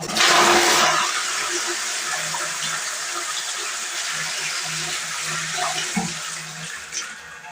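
A toilet flushes with a loud rushing burst of water up close, then settles into a steady gurgling refill that trickles on to the end, in a bathroom where a cleaning tablet has been dropped into the bowl.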